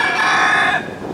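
A garden chicken gives one short, loud crow up close, then the call drops away.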